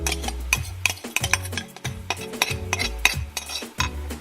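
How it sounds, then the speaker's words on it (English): Marinated mushrooms sautéing in sesame oil in a pan, a series of sharp clanks and scrapes from stirring over a light sizzle, close and irregular, no one talking. "I'm gonna saute one by one our marinated veggies. So I'm gonna start with our marinated mushrooms."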